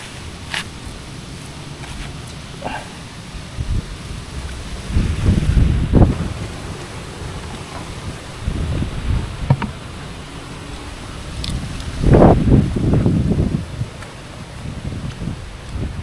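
Wind gusts buffet the microphone outdoors on a farm in Santa Cruz, Laguna, with a low steady rush that swells into several louder bursts.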